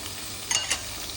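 Ingredients for squid sambal frying in oil, a steady crackling sizzle with a couple of louder bursts as the mixture is stirred, close and without talk.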